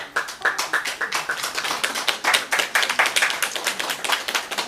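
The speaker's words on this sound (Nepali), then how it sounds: "उहाँलाई जोरदार ताली।" Rhythmic clapping from an audience at a dohori singing event honours a donor, the sharp claps close together and fairly loud throughout.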